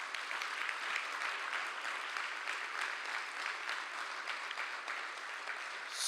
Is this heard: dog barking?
no